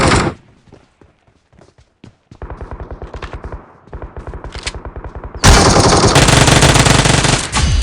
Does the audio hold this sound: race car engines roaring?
no